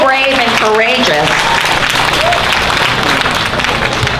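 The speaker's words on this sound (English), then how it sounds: "Let's give a big round of applause to Simon Lin for being so brave and courageo" A crowd gives a loud, steady round of applause after a speech at a political event, with dense clapping that goes on throughout and a voice talking over the start of it.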